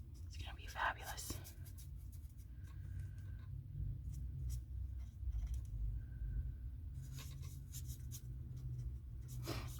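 Soft scratchy strokes of a marker moving across smooth white cardstock, in short bursts separated by pauses, close and quiet over a low steady hum.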